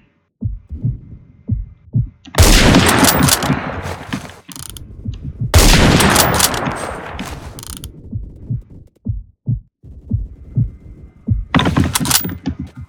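Automatic gunfire in the video game Phantom Forces comes in three loud, dense bursts lasting a couple of seconds each, separated by quieter stretches of soft thumps and clicks.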